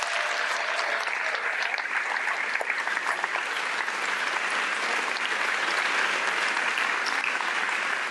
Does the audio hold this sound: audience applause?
yes